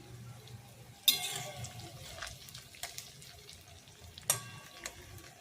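Pantua sweets made with ranga alu (sweet potato) frying in oil, a soft steady sizzle with clattering stirs and a couple of sharper utensil clinks, close by with no talking.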